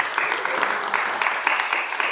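A church congregation applauds during a Sunday worship service, dense steady clapping with faint voices mixed in.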